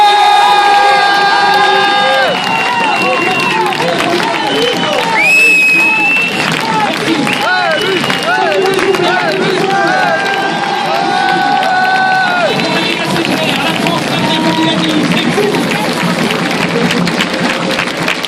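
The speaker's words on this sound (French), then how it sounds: "merci beaucoup Rémi, vous pouvez continuer à applaudir." An audience cheers, shouts and applauds steadily at a Rémi Gaillard show at the Méga CGR Narbonne, a loud, dense crowd roar with excited voices running throughout.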